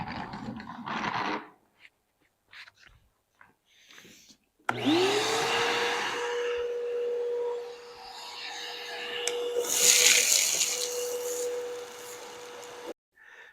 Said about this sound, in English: the vacuum will suck this up